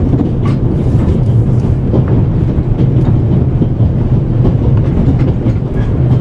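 A moving train in The Raven video game rumbles loud and steady, with a dense low roar and faint rhythmic clatter running without a break.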